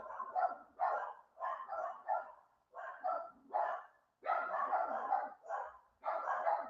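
Dogs bark in rapid, repeated bursts, a dozen or so loud barks in quick succession, close and insistent with short gaps between them.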